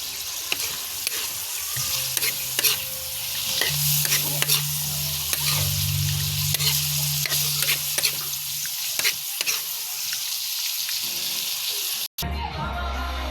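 Bitter gourd and egg stir-fry in a pan, with steady sizzling and repeated scraping and stirring of a utensil close by, ending in a few clattering kitchen sounds.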